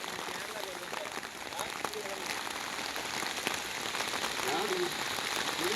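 Rain falls steadily on a trekking trail in Munnar, a dense continuous hiss of drops on surfaces throughout, fairly close, with no clear talking.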